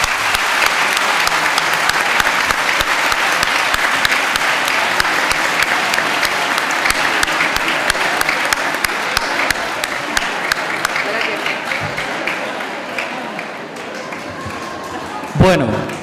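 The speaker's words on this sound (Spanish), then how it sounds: "Le damos un fuerte aplauso a Pablo para animarlo." Sustained loud applause from a lecture audience, dense steady clapping that slowly thins out toward the end before a brief thump.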